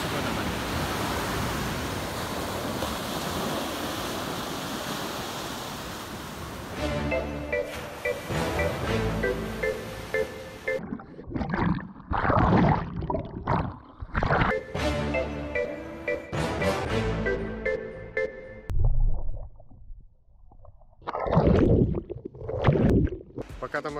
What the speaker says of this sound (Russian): Волны, оказывается, не такие мелкие.